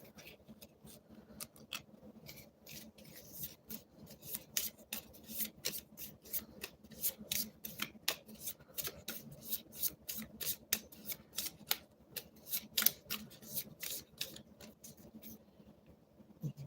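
Magic the Gathering cards being shuffled by hand, a dense run of quick riffling snaps and soft rubbing flicks repeating steadily throughout at close range, with no talk.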